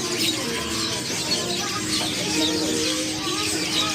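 Birds calling and cooing throughout a busy bird market at Pramuka, a dense, steady layer of chirps and coos with faint crowd noise beneath.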